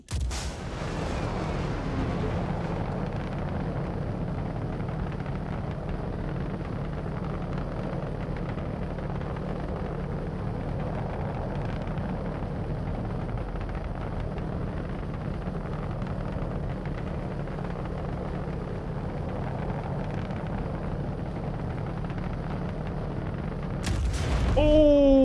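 Torpedoes from a Drake Corsair in the Star Citizen game blast apart a Hammerhead ship as a heavy, continuous rumbling roar that swells into a louder burst at the end, with no talk.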